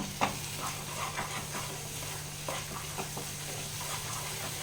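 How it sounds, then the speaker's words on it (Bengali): Paneer cubes fry in a pan over rising heat, giving a continuous soft sizzle with occasional stirring scrapes. No one talks over it. "এই দেখুন এইভাবে ভাজতে হবে একটু আমি হাই করে দিচ্ছি আঁচটা লো ফ্লেম ছিল"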